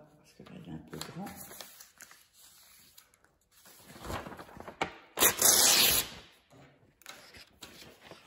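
Paper torn into small pieces by hand in a quiet room, several short ripping and crinkling bursts with pauses between them, one loud tear near the end, a voice speaking softly between the rips.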